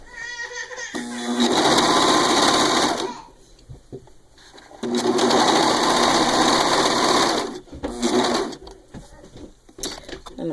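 A serger overlock sewing machine stitches elastic legbands on small underwear, whirring loudly in two long bursts of about three seconds each, separated by a quiet pause, then a short stuttering run near the end.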